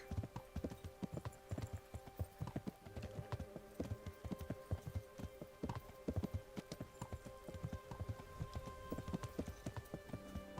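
Steady clip-clop of horse hooves trotting at an even rhythm in the video game Kingdom Come: Deliverance, close and moderately loud, with faint ambient hiss underneath and no talking.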